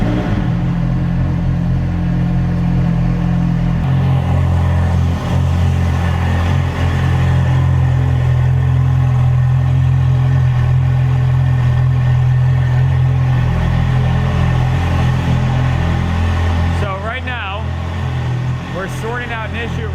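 Ferrari 430 Scuderia V8 engine after a cold start, a loud steady high idle rumble held near, settling slightly lower toward the end, with brief chirpy sounds near the close.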